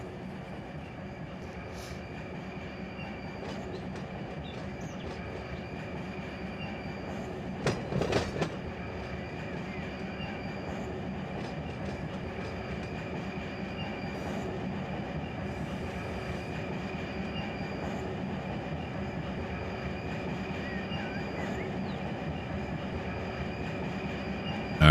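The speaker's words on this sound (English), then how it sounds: "that coal train that went by, I think was the one we emptied" A coal train rolls past in the Run 8 Train Simulator game, a continuous loud rumble with rhythmic clickety-clack of wheels over rail joints and a brief squeal partway through.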